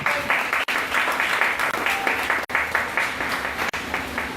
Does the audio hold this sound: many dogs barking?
no